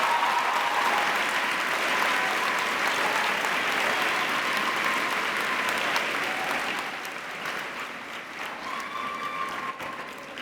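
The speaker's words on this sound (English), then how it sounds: "So I think that both grade 8 and 9 groups need another round of applause, please." Audience at a high school awards ceremony clapping in a sustained, dense round that holds steady for several seconds, then thins and softens toward the end, with a few faint voices under it.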